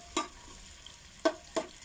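Scrambled eggs with tomato cooking in a frying pan, three quick stirring scrapes over a faint sizzle, close and with no talking.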